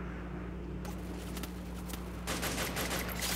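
Rapid bursts of gunfire from a high fire-rate gun in the Free Fire battle royale game, crackling over steady background noise and growing denser and louder toward the end.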